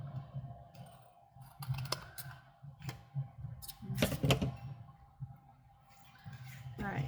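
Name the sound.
trimming the side of a paper tag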